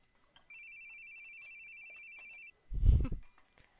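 A phone in The Boogie Man video game rings with a steady electronic trill for about two seconds, followed by a short thud.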